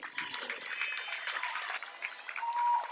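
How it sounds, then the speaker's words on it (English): Applause from a crowd at a high school basketball game between Mission Prep and Arroyo Grande, a steady, dense clapping that keeps going for the whole stretch and swells slightly near the end. "Nicholas Simmons has checked out, getting a round of applause"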